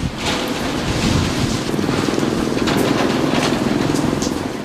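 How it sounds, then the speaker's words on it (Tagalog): Strong typhoon wind in Tacloban roars steadily with broadband rushing and buffeting against the microphone, continuous and loud throughout, no voices. "Nagising ang maraming Taclobanon sa malakas na hangin kaninang madaling araw."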